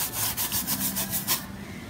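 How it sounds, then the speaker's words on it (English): A brush works varnish into the textured surface of a cold wax painting, giving a quick series of soft, rhythmic scrubbing strokes close up, which stop near the end and leave a faint hum. "pick it up with my brush, and I'm going to go into it like this because I want to get into all of the nooks"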